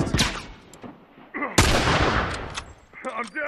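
Rifle gunshots ring out in The Last of Us Factions multiplayer, several loud sharp cracks with a big blast near the middle, mixed with shouting players and game sounds.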